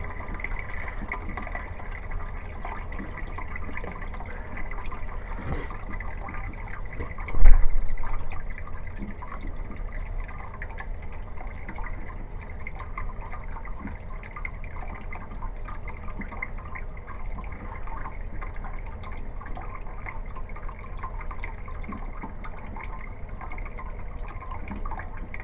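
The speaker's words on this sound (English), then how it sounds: "It takes it a little bit longer to fill up because I just got a little pump on it. It's a little 6-watt pump." A small 6-watt pump fills a toilet tank with rainwater, a low steady trickle and hum with one brief knock early on, quiet and continuous with no talk.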